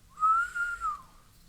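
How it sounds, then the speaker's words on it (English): A man whistles a single rising-and-falling note, clear and close, lasting about a second against a quiet background. "And he whistled."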